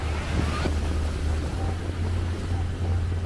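Ocean waves break and wash continuously on a beach during high-wave season in Vietnam, a loud, broad roar with a low steady rumble and gusty wind noise, no voices.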